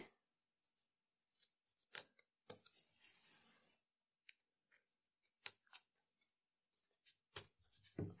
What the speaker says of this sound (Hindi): एक्स्ट्रा जिप हम यहाँ से काट देंगे